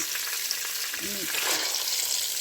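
Onions fry in melted butter inside a clay pot, giving a close, steady, bright sizzle that holds evenly throughout.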